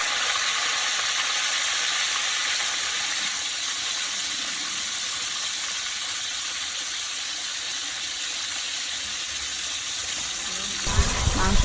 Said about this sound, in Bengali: মাংসগুলো ভালো করে ভেজে নিলাম